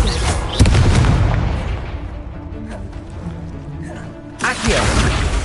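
The Confringo fire spell goes off in the video game Hogwarts Legacy with a loud booming blast, a rumbling tail that fades, then a second burst of explosive noise near the end.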